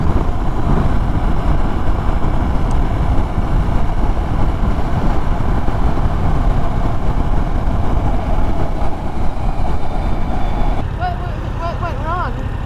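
A 2023 Yamaha R7 motorcycle rides at speed, producing a loud, steady engine drone mixed with wind rush that eases slightly near the end.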